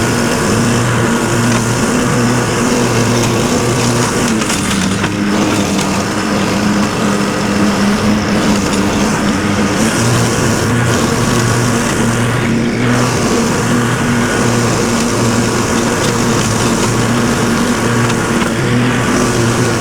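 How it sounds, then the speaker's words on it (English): A lawn mower cuts grass outdoors by a church, its engine droning loud and close for the whole stretch, with the pitch dipping and rising as it moves and works through the grass. "we're gonna go ahead and mow all of this"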